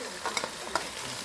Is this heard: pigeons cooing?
no